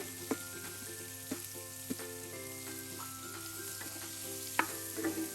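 Prawns with spices and chopped Malabar spinach fruit fry in a pan for a chorchori with green tomato, a faint steady sizzle under a constant low hum, with a few sharp spatula taps and scrapes.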